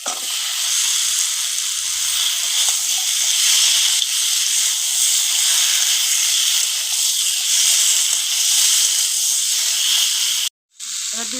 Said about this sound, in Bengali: মশলাটা আমার ভালোভাবে কষানো হয়ে গেছে এবার আমি শালগমটা দিয়ে দেবো